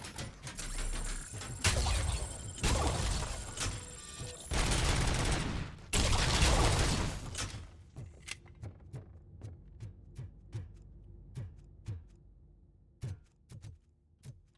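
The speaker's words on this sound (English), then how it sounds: "As you can see, I'm shooting men." Gunfire in the video game RoboCop: Rogue City. Heavy bursts of automatic fire come first, then a string of separate sharp single shots with short pauses between them.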